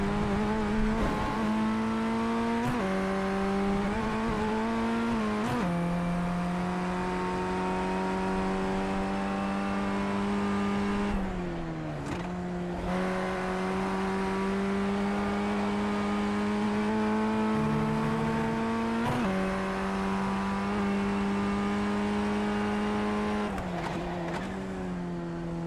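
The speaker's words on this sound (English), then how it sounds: "I'm just going to really quick talk for a second while the engine's roaring here." An F1600 race car engine roars through gear changes in iRacing at Oulton Park International Circuit, the pitch repeatedly climbing and dropping with each shift, loud and continuous for the whole stretch.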